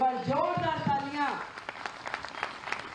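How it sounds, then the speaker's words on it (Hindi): Audience applause at a political address in Delhi celebrating Rekha Gupta becoming chief minister; a voice speaks briefly first, then scattered clapping rises at moderate loudness. "अगर खुश हो रेखा के मुख्यमंत्री बनने से तो एक बार जोरदार तालियां"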